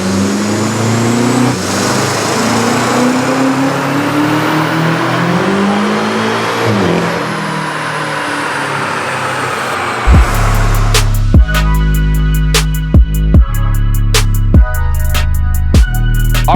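BMW F90 M5 tuned for around 700 horsepower on a dyno, engine note climbing steadily through a long pull, then a sharp break into loud rhythmic bangs and rumbling as the run ends.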